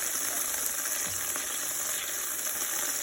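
Butter melting in a pan that still holds leftover oil and seasoning, giving a steady, dense sizzle and crackle throughout with no voices.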